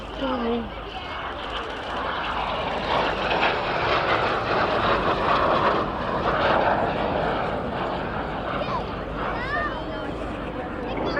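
Propeller aircraft flying past at the Cosford airshow, a loud sustained droning engine roar that swells and fades, with a voice talking over it throughout.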